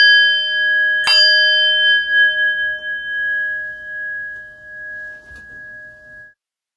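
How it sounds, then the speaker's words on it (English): A meditation bell is struck to open a guided session, giving a bright metallic strike followed by a long, clear, ringing tone. A second, much softer tap comes a few seconds later, and there is no talking. "So I'll ring the bell twice to begin"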